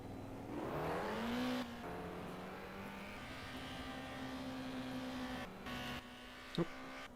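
A race car pulls out of the pits at a racing-game circuit in Helsinki and accelerates through rising gear changes, then runs at a high steady whine. A short click and a brief gap come near the end, with no talk.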